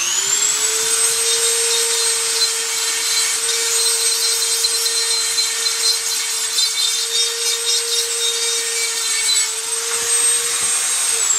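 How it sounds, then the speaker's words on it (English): Power grinder whining at a steady high pitch while grinding down PC parts to fit, a loud continuous tone that spins up at the start and winds down near the end, with no talk. "I may need to grind them down more."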